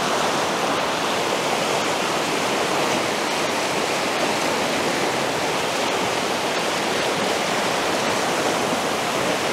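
A river current rushes along in a dense, steady roar of flowing water, loud and close, without a break and with no voices over it.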